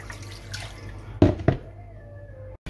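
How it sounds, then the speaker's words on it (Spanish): Water pours into a pan holding stuffed squid and prawns, a brief splashing rush with two louder gushes, then trickling and a fading drip, close and fairly quiet. "y ahora vamos a cubrir con agua."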